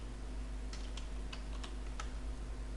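Keys tapped on a computer keyboard while filling cells of a spreadsheet table, a handful of separate clicks spaced unevenly over a steady hum, close and moderately clear, no speech.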